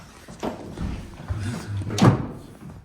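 A door being taken off a wooden cabinet, with low wooden knocks and rubbing, then a sharper clunk near the end, close by and moderately loud.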